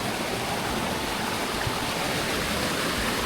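Water streams steadily over slippery rocks, a loud, close, continuous rushing wash with no pauses and no voices.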